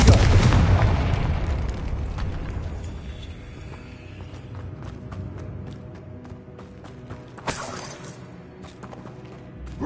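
A Confringo explosive spell goes off in Hogwarts Legacy: a loud, booming blast that decays into a long rumbling tail, with a second sharper burst later, no talk over it.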